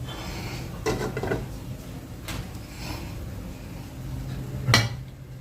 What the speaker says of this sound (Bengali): দিয়ে এবার ইডলিটা রান্নার জন্য বসিয়ে দিচ্ছি।